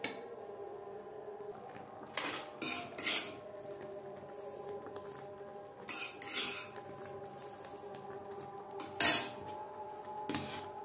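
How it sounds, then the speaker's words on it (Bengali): Semolina being stirred in a pan over low to medium heat while making sweet malai sandesh, with scattered scraping and clinking of a spoon against metal in brief bursts, one sharper clink, over quiet background. "অল্প অল্প করে মেশাতে থাকবো আর নাড়তে থাকবো।"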